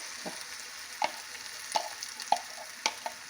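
A spoon stirs cooked minced meat filling in a hot pan, soft sizzling under a few distinct scrapes and clinks of the utensil against the pan, close and fairly quiet.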